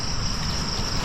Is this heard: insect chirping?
yes